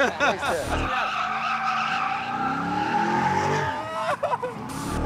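A powerful Corvette with traction control, ABS and electronic aids switched off slides through corners at Exotics Racing in Las Vegas: a loud, sustained tire squeal with an engine roar beneath it, continuing nearly unbroken across the stretch.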